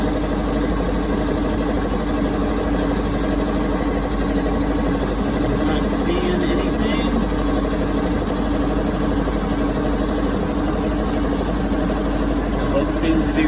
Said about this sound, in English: I got the boat started.